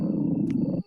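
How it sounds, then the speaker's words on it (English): A dog growling in the Resident Evil video game: a loud, close, rough, low growl held steadily for under a second, then cut off abruptly. "Oop, that's a dog."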